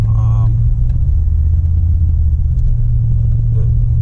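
An old one-owner Chevy truck pulls away from a farm toward the main road, its engine a steady, close, low rumble that holds for the whole stretch, with a brief voice near the start.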